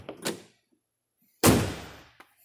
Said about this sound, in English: Door shuts nice.